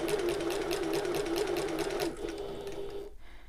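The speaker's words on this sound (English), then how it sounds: "I'm going to sew up this line" A sewing machine runs a line of topstitching on a shoulder bag, a fast regular needle chatter for about two seconds before slowing and stopping, leaving a faint motor hum.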